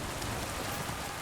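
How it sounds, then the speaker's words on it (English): Heavy downpour in the city in Kingdom Come: Deliverance II, a medieval open-world role-playing game, a dense, steady hiss of rain drumming on surfaces with no break or voices. "No, it's also raining super heavy."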